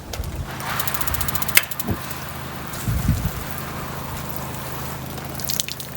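Steady rushing water runs throughout from a Camplux BD158 6-litre gas-flow portable water heater, a continuous spray-like hiss with a few faint clicks and thumps, close by.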